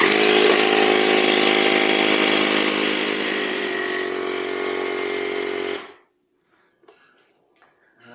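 Loud, steady mechanical buzz of a tire inflator pumping a Jasion EB5 e-bike tire up to 50 PSI, running continuously close by for about six seconds before cutting off, followed by faint handling noises.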